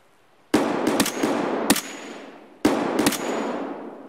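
Rifle firing M80 rounds in the Escape from Tarkov video game: roughly half a dozen sharp, loud shots in two close bursts, each ringing off in a long, echoing decay, with no talk.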